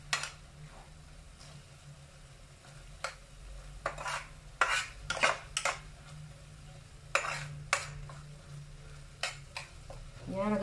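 A spoon stirs sarsyadong tuna in a cooking pan, giving irregular scraping clinks against the metal over a low steady hum, with a few sharper clusters of strokes.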